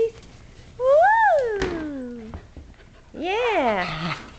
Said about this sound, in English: What you doing, puppies?